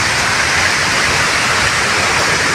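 Floodwater rushing over Sabsaban Falls in heavy rain during a typhoon, a loud, steady, broadband roar that fills the whole stretch with no pauses or voices.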